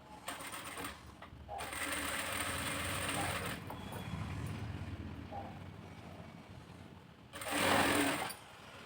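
Sewing machine stitching patchwork fabric, several bursts of rapid mechanical whirring and clatter, a long middle run and a louder final spurt, separated by brief quiet gaps.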